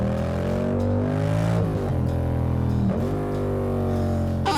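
A car driving with its exhaust silencer fallen off gives a loud, continuous engine drone that rises and dips with throttle changes, heard close from inside and steady throughout.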